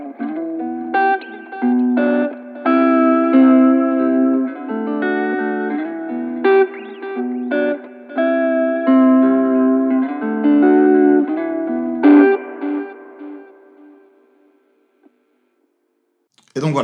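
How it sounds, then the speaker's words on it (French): A lo-fi electric guitar plays chords and melodic phrases through a Universal Audio Starlight tape delay pedal set to Echoplex mode, with repeating echoes trailing each strum before fading out near the end. "je vais y ajouter un délai à bande, et pour ça j'utilise la pédale d'Universal Audio"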